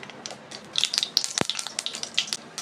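Mustard seeds and urad dal spluttering in hot oil, a close run of irregular crackling pops and sizzles with one sharper burst partway through.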